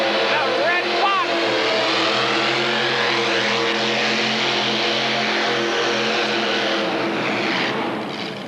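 A Chevrolet 468-horsepower mini rod engine roars at full throttle during a tractor pull, a loud sustained multi-engine drone that holds steady and then begins to fade, with an announcer talking over it.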